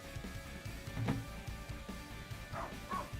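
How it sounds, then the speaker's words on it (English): A pet dog indoors barks at a car outside, giving several sharp, mid-distance barks and yips spaced irregularly amid low room noise. "He's barking."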